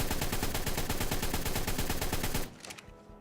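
Rapid gunfire aimed at dinosaurs in the video game ARK rattles loudly and continuously for about two and a half seconds, then cuts off, leaving only a few faint trailing reports.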